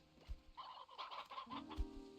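Chickens clucking in the video game Slime Rancher 2, a short run of soft repeated clucks and a drawn-out fowl call, faint and close, with no voices.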